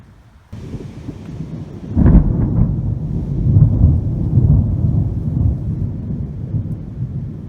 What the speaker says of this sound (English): we've got some crazy storms going on here.